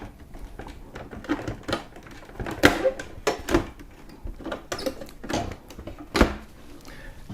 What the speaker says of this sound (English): Press the button again, and that will start the priming cycle to get the cartridges ready for a print.